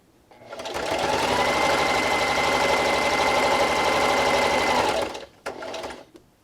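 A sewing machine runs a straight stitch with backstitch for a pencil holder bookmark, humming and whirring steadily up close for about four seconds before stopping, then a brief short burst.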